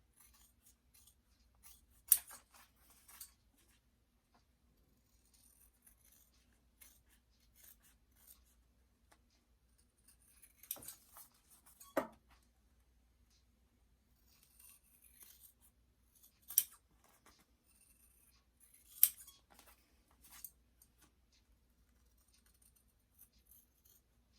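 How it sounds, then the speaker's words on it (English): Scissors cutting out a fabric bag shape, with sparse quiet snips and rustling spread over a long stretch, a few crisper cuts standing out against near silence. "And then just cut out your shape, and they will be exact to one another."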